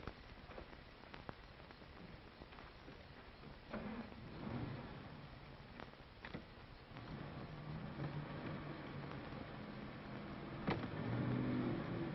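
Old car driving along, a muffled steady engine and road rumble at low level with a few sharp knocks and thumps, swelling slightly near the end.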